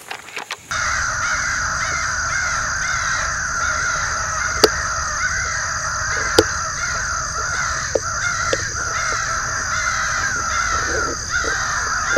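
Crows caw in reply to a hunter's crow call during summer crow hunting among tall trees, with harsh repeated caws over a continuous outdoor backdrop and a few sharp clicks; no talking.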